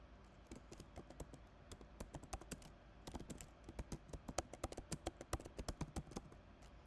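Rapid, uneven typing on a computer keyboard, keys clicking in close bursts with short pauses, nearby and alone with no voices.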